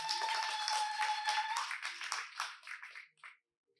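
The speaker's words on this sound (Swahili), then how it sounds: "Mchapie Yesu makofi." A church congregation breaks into clapping, a dense burst of many hands that thins out and trails off into a few scattered claps before stopping.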